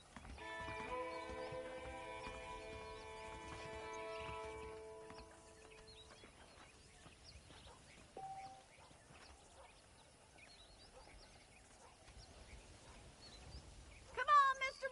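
Horses clip-clop in the Red Dead Redemption video game, hoofbeats faint and steady beneath a game voice and some music, with a brief whinny near the end.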